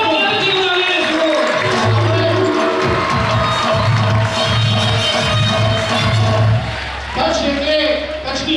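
Crowd at a foundation-stone ceremony for a Jain boarding school cheering and clapping, noisy and lively with shouts, a background musical tone, and a voice talking over the din.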